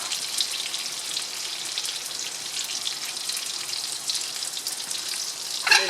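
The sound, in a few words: eggplant sautéing with onion in a frying pan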